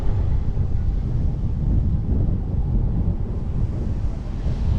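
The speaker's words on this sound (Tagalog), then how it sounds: "Malakas ang hangin ba?" Strong seaside wind buffeting the microphone in a steady roar, with the low rumble of high-tide surf beneath it, at the port of Binic, France.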